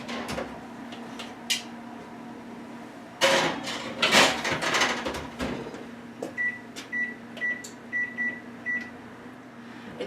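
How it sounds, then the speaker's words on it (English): A tray of carrot cake goes into a kitchen oven set to 350 degrees for 20 minutes: a few light clinks, then a loud clunk and rattle as the door shuts, followed by a string of short electronic beeps. "We're going to pop these in the oven for 20 minutes at 350."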